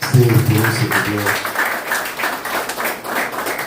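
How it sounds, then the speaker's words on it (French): Audience at a library inauguration ceremony in Anse-à-Veau claps in a dense, fairly close burst of applause that sustains steadily, with a voice briefly audible near the start. "je vous demande d'applaudir chaudement l'animatrice Olène François"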